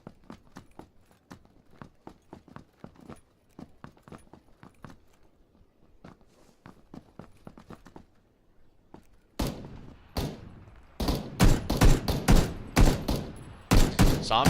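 Video game gunfire in a collegiate esports match: rapid, irregular shots, faint and distant at first, then loud, close bursts of firing in the final seconds.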